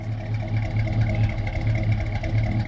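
A classic car engine runs close by with a deep, steady rumble and a slightly throbbing low pulse that stays loud throughout.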